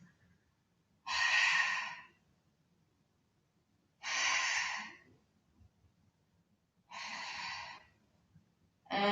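Three slow, deep exhalations during a Pilates exercise, each a long breathy rush lasting about a second, spaced evenly with quiet pauses between them and heard close and clear.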